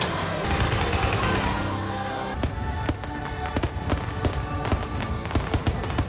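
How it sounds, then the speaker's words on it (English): Fireworks at Magic Kingdom crackle and boom in rapid, irregular bursts, a steady rumbling display heard from a distance with sharp pops clustering toward the end. "Can you hear the fireworks?"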